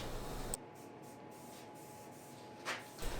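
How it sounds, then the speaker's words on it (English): An aerosol can sprays flat black paint onto a welding table in short hissing bursts. One brief spray is followed by a long, steady hiss and then another short burst, close up and moderately loud. "now I can start spray painting it the flat black that I chose"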